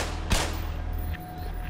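A single sharp gunshot in the video game Black Mesa cracks out loudly near the start, then fades into a low ambient hum.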